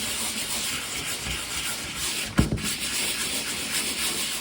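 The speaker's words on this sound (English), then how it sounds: "make sure to sand a larger area than what just the patch itself will be covering" Continuous abrasive rubbing hiss of sanding a plasterboard drywall patch, close and steady, with a brief knock partway through.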